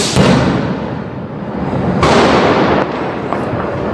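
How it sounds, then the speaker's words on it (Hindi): Diwali firecrackers and fireworks going off outside, a dense, crackling roar of bursts with a couple of sharper loud pops, continuous and fairly close. "ताकि आपको ये पटाखों की आवाज़ आए और दिवाली की प्रॉपर फील आती रहे"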